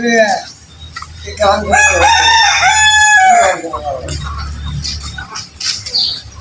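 Native deshi chickens crow loudly and close by in a long cock-a-doodle-doo, followed by scattered clucks and chirps over a low background hum.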